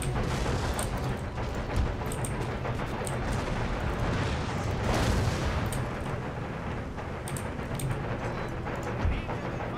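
Musket volleys from frontiersmen on the walls during the sack of Madrid in Empire: Total War, a dense crackle of gunfire with scattered sharper shots over a constant roar of battle, loud and continuous.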